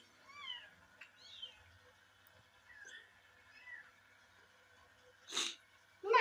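Small kittens mew in thin, high, rising cries several times, faint and close in a quiet house, followed by two sharp sneeze-like bursts at the end.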